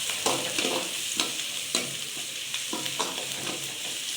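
Chopped onion and garlic fry in oil for a spinach poriyal, a constant close sizzle broken every half second or so by the scrape and clack of a spoon stirring the pan.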